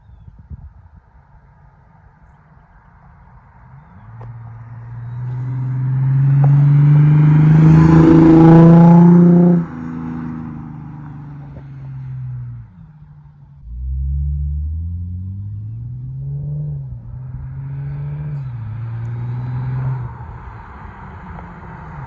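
A loud 2005–2009 Ford Mustang engine approaches, roars past nearby and fades, its deep rumble shifting pitch, then rising again as it accelerates away.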